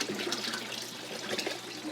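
Water pours steadily into a hydroponics nutrient reservoir on a homestead NFT system, a continuous close rushing splash with no pauses for the full two seconds.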